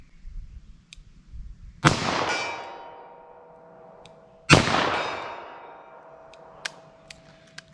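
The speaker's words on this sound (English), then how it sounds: "So 38 special, let's see how these shoot." A .38 Special revolver fires two sharp, loud shots a few seconds apart outdoors, each with a long rolling echo that fades away, and a faint voice comes in briefly.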